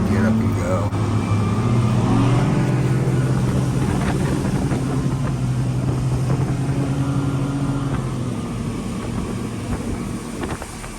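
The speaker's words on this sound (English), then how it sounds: "I was very impressed with how quickly this boat can get up and go." A fishing boat off Sitka, Alaska, roars as it speeds up, with a loud, steady engine drone and strong wind rush buffeting the microphone that slowly eases toward the end.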